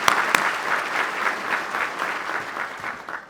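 An audience at a city State of the City event applauds the VIPs, sustained, dense clapping from a large crowd that fades slightly toward the end.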